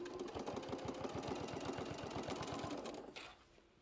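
A sewing machine runs steadily, stitching fabric for a bucket hat with a fast, even needle rhythm close by, then slows and stops near the end.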